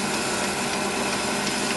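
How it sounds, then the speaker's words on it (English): A hand drill boring a hole about 80mm deep during a track day car upgrade, a loud continuous grinding whir held steady and close with no pauses. "going for about 80mm deep with the drill"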